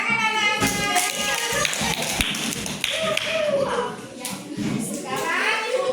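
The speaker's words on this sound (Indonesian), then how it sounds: "Tepuk tangan anak-anak." A classroom of children claps their hands in quick, rapid patter, fairly close and loud, with children's voices calling out over the applause.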